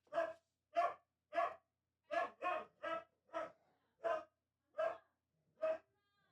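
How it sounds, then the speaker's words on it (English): A husky in another room barks about ten times in sharp, evenly spaced bursts, one after another, with quiet gaps in between. "Do you hear my husky going crazy in the other room?"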